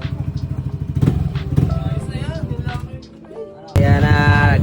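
A 1.8-litre motorcycle engine revs loudly and close by with a rapid pulsing exhaust beat, dips briefly, then surges again to a louder, sustained roar.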